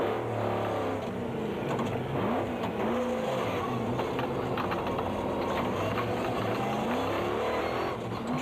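A 450 horsepower V6 Jimco rally car racing through cane fields in the Sugarbelt 400: a loud, sustained engine roar rising and falling as it revs and accelerates, close and unbroken.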